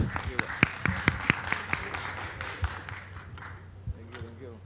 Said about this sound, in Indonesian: kita berikan tepuk tangan paling meriah untuk Pastor Yusa Kencana